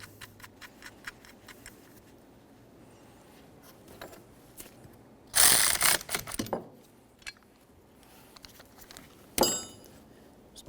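A ratchet tightens bolts on the front upper control arm of a 1994-1997 Honda Accord, giving faint, rapid ticking clicks that stop and start, broken by a few louder metallic clatters.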